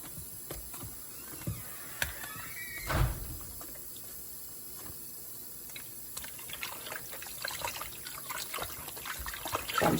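Tap water trickling and running while food is washed in a country kitchen, with occasional knocks and cupboard-like thumps, a louder clunk near the start, close and without voices.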